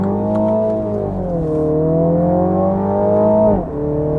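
2017 Mini JCW Clubman accelerating hard in sport and manual mode, a loud close engine note climbing in pitch, dipping briefly as it shifts gear, then climbing again and cutting off sharply near the end, with no talking.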